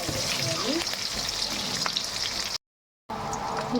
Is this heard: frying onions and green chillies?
yes